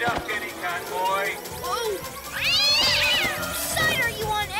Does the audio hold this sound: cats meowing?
yes